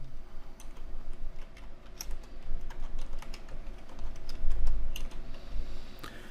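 Fingers type on a computer keyboard in quick, irregular clicks close by, steady over a low background hum with no talk.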